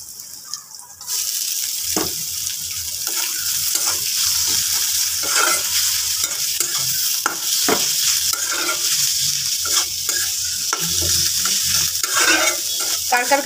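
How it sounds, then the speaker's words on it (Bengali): Radish greens stir-frying with new onion in a pan, a loud continuous sizzle with repeated scraping and stirring strokes close by. "নতুন পেঁয়াজ দিয়েই শাকটা ভাজি করছি।"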